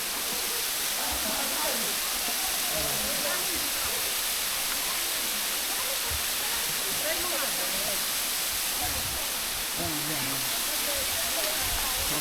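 Batlag Falls, a waterfall near Metro Manila in the Philippines, gives off a steady, broadband rushing roar that continues without a break, with voices chatting faintly over the water.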